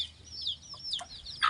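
Small chickens cluck and chirp faintly in a few quick, high calls while being fed whole corn, heard briefly and close by.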